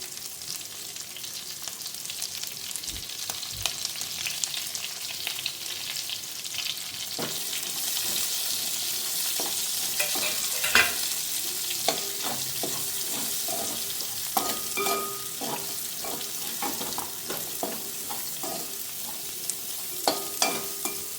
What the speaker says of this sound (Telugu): ఈ ఆనియన్స్ ఆ పచ్చిమిర్చి కూడా గోల్డ్ బ్రౌన్ వచ్చే వరకు ఉండాలి.